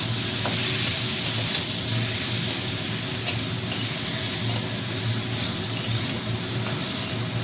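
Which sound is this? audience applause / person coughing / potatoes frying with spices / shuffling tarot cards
potatoes frying with spices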